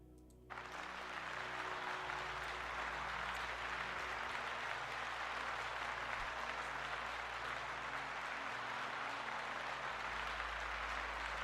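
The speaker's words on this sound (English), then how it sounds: "Let's give them a round of applause" A round of applause rises abruptly and holds as a steady, even wash of many hands clapping, fairly faint, continuing unbroken for over ten seconds.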